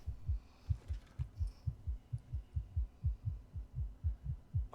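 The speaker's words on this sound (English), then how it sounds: "Why's your heart beating so fast?" Rapid heartbeat, a steady run of about a dozen low, thumping double pulses that sound close and evenly paced, alone and without talk.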